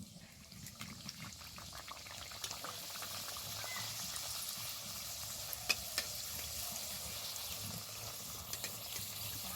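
Fuchka dough puris fry in a pan of hot oil, giving a steady, close bubbling sizzle with faint crackles and an occasional light tap of a utensil, with no talking.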